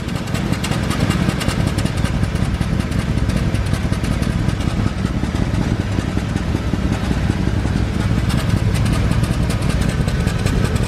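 A Honda CR-V engine idles roughly with a misfire and an exhaust leak, a loud, steady, rattling chug that runs on without a break and with no talking.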